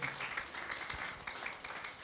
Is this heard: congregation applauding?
yes